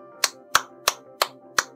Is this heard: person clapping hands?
yes